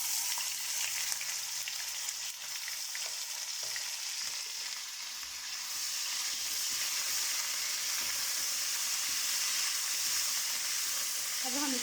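Ginger and garlic fry in hot oil for beef yakhni pulao, a steady loud sizzle with a crackle that holds unbroken throughout, broken now and then by a spoon scraping and stirring the pan.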